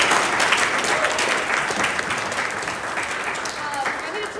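An audience applauds steadily at a talk on preparing buildings for wildfire resiliency, a dense, even wash of many hands clapping at close range for several seconds, with some voices mixed in.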